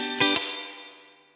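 A Joyo JF-20 Moist Reverb pedal on a guitar: a struck chord with two quick attacks, followed by a smeared, grainy digital reverb tail that slowly fades with audible artifacts.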